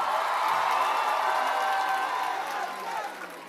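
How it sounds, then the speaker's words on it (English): Concert crowd at a show cheers and applauds for Mayor K, a dense roar of voices and clapping that holds steady, then fades toward the end. "Give Mayor K a round of applause"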